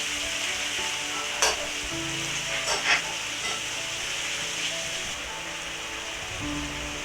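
Pork pieces fry in a pot for Trinidadian geera pork, giving a steady loud sizzle with crackling spatter and a few brief louder bursts as the meat shifts, close by and without talk.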